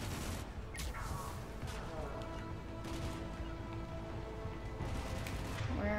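Gunfire in Mass Effect 3 sounds as scattered shots and bursts amid continuous battle noise, fairly close, with intermittent sharp cracks throughout.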